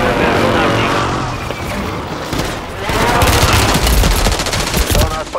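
Gunfire rattles in Call of Duty Warzone 3, dense automatic bursts layered over a loud battle din, intensifying in the second half into rapid repeated shots, with voices talking beneath it.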